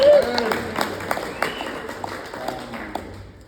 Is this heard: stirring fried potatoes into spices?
no